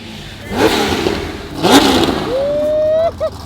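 A car engine revs hard and rises in pitch like a race car during a supercar rally with an Audi R8 among the cars, loud and close, with two shorter rising surges before a long, sustained whine.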